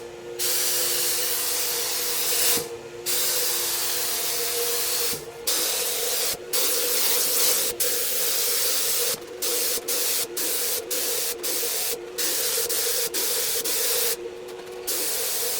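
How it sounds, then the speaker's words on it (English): Steady, loud spray hiss of a first coat of polyurethane sprayed onto sanded wooden desk parts, running almost continuously, broken by brief pauses as the trigger is released and pressed again, with a low compressor hum beneath. "we're getting ready to spray them with polyurethane, first coat"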